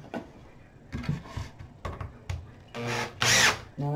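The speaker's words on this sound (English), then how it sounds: "We're going to finish screwing these in" Power drill driving screws into a wooden farmhouse-style fence, heard as several short bursts of whirring with gaps of knocking and handling between them, rising to a louder, longer run near the end.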